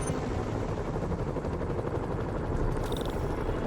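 Steady low rotor thrum of a helicopter in the video game Marvel's Spider-Man fills the clip, loud and continuous, with a brief higher mechanical whine near the end.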